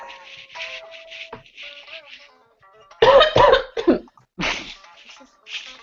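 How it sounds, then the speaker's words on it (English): Several harsh coughs burst out close by in a quick cluster, with quieter shuffling and faint voice-like sounds before and after. "I just heard my father cough at the same time"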